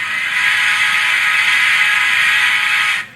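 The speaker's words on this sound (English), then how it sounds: "And the whistle." Steady, loud whistle from an Athearn Big Boy #4014 model steam locomotive with oil tender, a sustained tone held for about three seconds and then cut off sharply.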